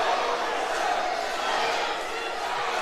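A wrestling crowd in a city hall venue roars and cheers after a big move, a dense, loud wash of many voices sustained without a break.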